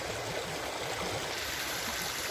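Flood water rushes past in a steady, close, continuous flow with a dense hiss and gurgle, alone and with no talking.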